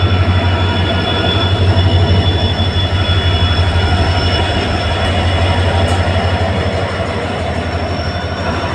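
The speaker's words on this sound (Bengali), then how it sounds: "বামুনহাট থেকে উত্তরবঙ্গ এক্সপ্রেস চলে আসলো দিনহাটা রেলওয়ে স্টেশনে" The Uttarbanga Express (13147) from Bamanhat rolls into Dinhata railway station with a loud, continuous rumble of wheels on rails, a steady hum and faint wheel squeal, close by and without talk.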